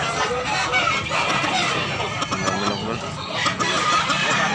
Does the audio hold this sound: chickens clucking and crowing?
yes